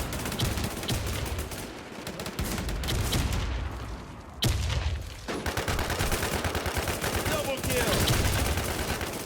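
Rapid gunfire in the online shooter game Runner during a clan battle, with dense bursts of automatic fire that run nearly continuously and loudly, broken by a brief pause mid-clip.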